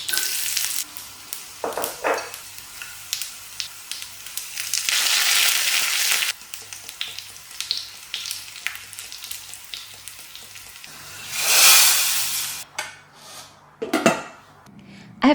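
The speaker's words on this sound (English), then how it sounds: "I make a tadka with a teaspoon of oil, a teaspoon of homemade desi ghee, a teaspoon of mustard seeds, garlic cloves, dry red chilies," A tadka of oil, homemade desi ghee, mustard seeds, garlic cloves and dry red chilies sizzling in a small pan, loud bursts of spattering crackle with clinks of a spoon against metal, close and without talk.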